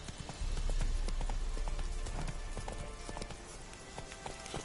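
Roach the horse gallops in The Witcher 3, her hoofbeats thudding in a quick, steady clip-clop run that sounds close and loud.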